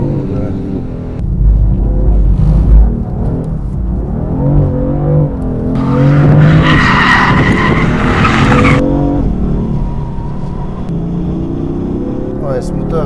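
A BMW M4 drifting at full power, its engine roaring and tyres squealing loudly and continuously up close, with someone talking over the noise.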